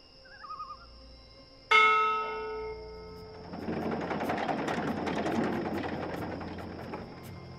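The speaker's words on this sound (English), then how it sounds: "this is a ship's bell. They use this to signal the crew when a load of cargo's ready to be hoisted up." A ship's bell aboard a cloud ship in the game Dreamfall Chapters strikes once loudly, its ringing tone fading slowly while a broad rushing wind-and-machinery noise swells up beneath it.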